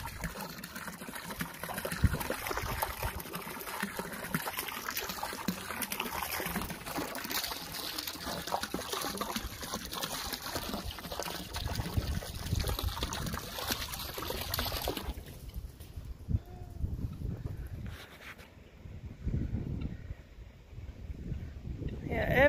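A garden hose wets down farm animals due for shearing, producing a steady hissing spray of water under ongoing conversation. The spray thins out in the later part.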